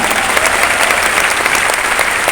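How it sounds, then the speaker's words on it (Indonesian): A church congregation breaks into dense, continuous applause during a worship service, a loud steady wash of clapping that holds evenly throughout. "Beri tepuk tangan buat Tuhan."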